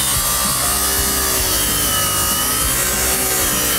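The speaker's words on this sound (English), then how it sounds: "This is the biggest grinder ever." A very large, powerful grinder runs in a game, a loud, dense, continuous abrasive rasping and whirring that holds steady throughout.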